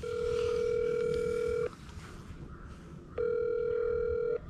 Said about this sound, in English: Got to holler at Bradley, see if he's awake this morning